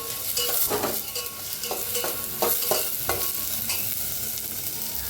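Moth beans dry roasting in a pan crackle and rustle as they are stirred, with repeated scraping strokes over a constant low sizzle, close by.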